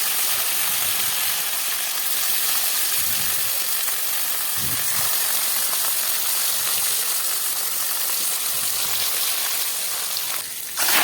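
Fish frying in a pan in a home kitchen, giving a steady, loud broadband sizzle that holds evenly throughout, with a brief clatter near the end.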